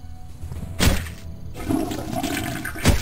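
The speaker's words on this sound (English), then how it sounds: "Apparently we can flush the toilet." A toilet flushes in the horror video game Cultic: a sudden gush of rushing water followed by a swirling drain, then a second burst near the end, with no talking.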